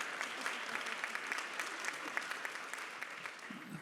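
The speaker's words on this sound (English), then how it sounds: "You may applaud." An audience at a talk on conservation of Indigenous homelands claps steadily, a dense even wash of applause from a fairly distant crowd, sustained throughout without voices.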